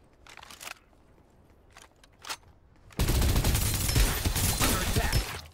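Rapid automatic gunfire from a weapon in the shooter game Farlight 84 bursts in loudly and continuously for several seconds, after a few scattered quieter shots and clicks.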